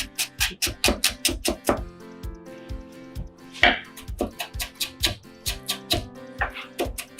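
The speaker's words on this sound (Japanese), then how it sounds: "みじん切りにしてください。" A knife minces cucumber on a cutting board for a vegetable tartar sauce, making a quick run of crisp, close chops in bursts with one short pause midway.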